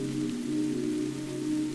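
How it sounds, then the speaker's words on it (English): Soft rain patters steadily over an olive grove at night, a dense continuous hiss with a low, even hum beneath, unbroken and close for the whole stretch. "With each soft patter of the rain"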